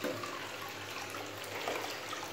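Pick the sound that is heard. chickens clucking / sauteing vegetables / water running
water running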